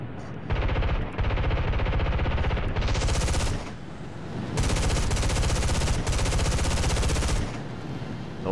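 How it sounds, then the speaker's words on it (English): Sustained bursts of F-80C machine-gun fire in the War Thunder air-combat game, loud rapid rattling in long continuous strings broken by short gaps. "you have a ton of ammunition, so you can keep on shooting just to get that crit"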